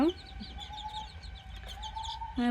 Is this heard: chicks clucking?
yes